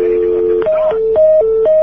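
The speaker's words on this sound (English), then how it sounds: "You got a dial tone." Telephone line tones play on a live call: a steady tone, then a rhythmic alternating two-pitch pattern of beeps, loud and close over the phone connection, with no speech.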